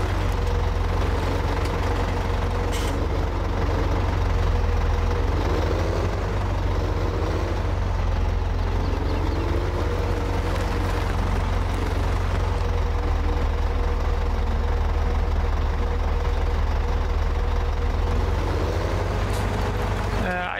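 A tractor engine idling in the Farming Simulator 2017 video game, a loud steady low diesel rumble that runs unbroken throughout with slight wavering tones, while a voice talks over it at times.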